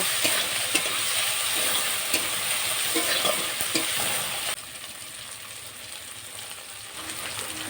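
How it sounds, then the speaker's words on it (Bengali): Chopped tomato sizzles and fries in a pan for a lentil dish with ridge gourd, a spoon scraping and stirring it in steady strokes; the frying is loud and close at first and softens a little partway through. "টমেটো কুচিটা দিয়ে একটু ভালো করে নেড়ে চেড়ে নেব"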